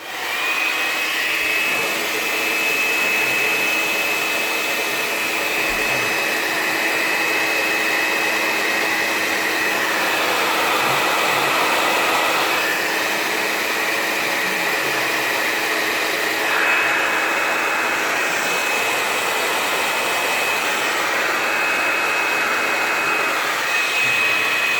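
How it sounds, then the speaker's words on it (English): A hairdryer blows onto a fan, making a loud, continuous whooshing roar with a steady whine that runs throughout without pauses. "I'm just going to use the hairdryer to blow the fan"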